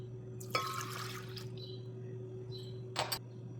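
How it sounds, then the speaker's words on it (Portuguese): Warm milk and warm water are poured into a bowl for dough, two short splashy pours a couple of seconds apart over a steady low background hum. "eu começo adicionando aqui na vasilha 150 ml de leite morno, 150 ml de água morna"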